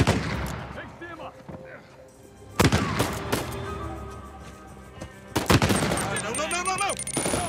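Two loud bursts of rapid gunfire crack out in Uncharted 4, separated by quieter stretches of shouting and action noise, with warning shots called out.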